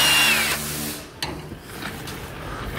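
A power tool runs bolts up on a 2009 Honda Accord subframe during an engine installation, giving a close, loud whirring burst that stops after about half a second, followed by a few faint clicks and clunks.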